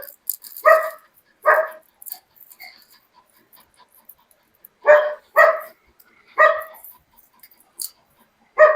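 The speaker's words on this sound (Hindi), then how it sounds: "भौंको मत, चलो अंदर आओ।" A dog barks in short bursts of two or three sharp woofs with quiet gaps between them, fairly close and loud, with no talk over it.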